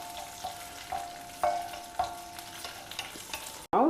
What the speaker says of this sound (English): We will fry them first. When the cashews start changing color,